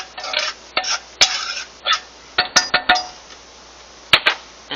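Onions sizzle in a hot pan with a steady hiss, broken by sharp clinks and scrapes of a utensil stirring against the metal.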